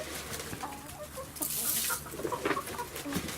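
Chickens cluck softly nearby in scattered, low calls, with a brief rustling hiss partway through.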